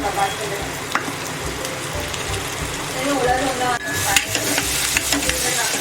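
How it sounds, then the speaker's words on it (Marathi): Tomatoes frying and being stirred in a pan for Mumbai-style pav bhaji make a steady sizzle with scraping spoon strokes throughout, fairly close, with a voice speaking over the cooking. "आता हे बघा व्यवस्थित असं मिक्स करून घेऊया टोमॅटो"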